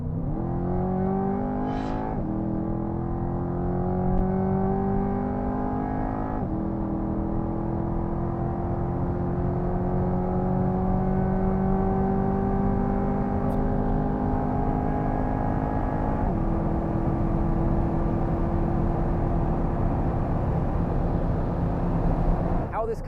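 An American supercar in sport mode revs hard toward high RPM, its engine note climbing in long rising sweeps with brief drops at each gear change, heard from inside the cabin, steady and loud throughout.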